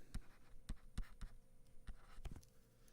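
Writing on a board during an algebra lesson on factoring, a quiet run of short, irregular taps and strokes, close but faint, with no talking.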